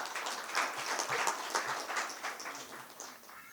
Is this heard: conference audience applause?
yes